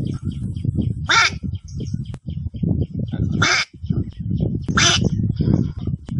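A person imitates a bird call with their voice, making three loud, sharp, squawking cries spaced a couple of seconds apart over a low, continuous background rumble.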